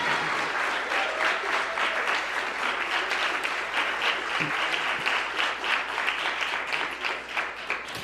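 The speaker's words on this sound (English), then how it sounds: "Can you give our young people another round of applause?" An audience at a Martin Luther King Jr. Day of Service event gives young people a round of applause: sustained, fairly close clapping from a crowd, even and continuous throughout.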